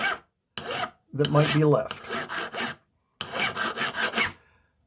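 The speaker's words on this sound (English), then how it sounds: "I'll finish by taking my file, starting gently, remove any burrs" A metal file rasps burrs off a freshly trimmed screw and nut for a stained glass mobile, giving several close, rhythmic scraping strokes in short bursts with pauses between, and a brief spoken phrase in the middle.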